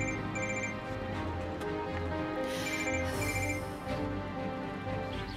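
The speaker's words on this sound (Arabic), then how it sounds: "التليفون عم يرن، شوفي." A telephone rings indoors in repeated short electronic trills, faint and set behind a steady room hum.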